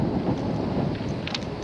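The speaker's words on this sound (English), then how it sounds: "It is so windy, I hope that you can hear me." Strong wind buffets a microphone outdoors at a small farm park, a loud, continuous low rumbling roar that lasts the whole moment, with no speech.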